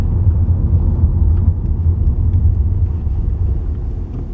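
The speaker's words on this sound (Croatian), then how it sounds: "Motor se vrlo malo čuje," Low, steady engine drone of a 2012 SEAT Leon 1.2 TSI heard from inside the cabin while driving, a smooth continuous rumble with road noise and no talking.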